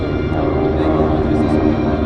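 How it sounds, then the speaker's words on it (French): Radial piston engines of a Douglas DC-3 and Beechcraft 18 flying in formation at an air show give a loud, steady, throbbing drone that holds continuously without a break. "Sur votre droite, je vous laisse savourer le chant de ces nombreux cylindres qui composent ces avions."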